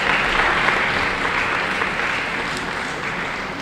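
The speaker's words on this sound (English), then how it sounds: "Give him a warm welcome, a rousing round of applause." A school debate audience applauds to welcome a speaker, a dense steady wash of clapping that slowly fades across a few seconds.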